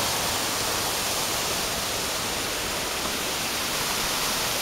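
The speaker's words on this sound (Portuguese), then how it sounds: "E aqui está a cachoeira." The Cachoeira da Água Branca waterfall in Ilhabela, São Paulo roars as a dense, steady rush of falling water, close and continuous with no talk.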